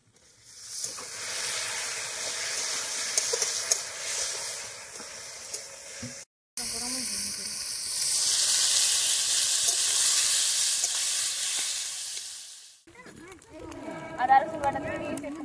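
Ginger, garlic and onion sizzle and get stirred in a pot of chicken or fish curry cooked outdoors on a rural winter picnic. There is a loud steady frying hiss, a brief cut, then a stronger sizzle and scraping near the end.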